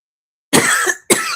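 Two sharp, loud coughs close by, the first longer and the second following after a brief pause.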